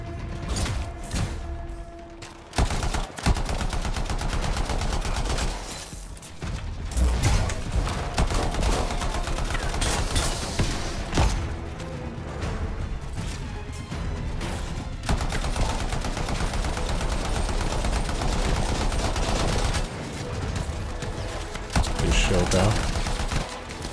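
Gunfire in the video game Anthem: sustained rapid automatic bursts with mechanical clatter and crashes running almost continuously for the whole stretch, loud and dense, with a voice speaking over parts of it.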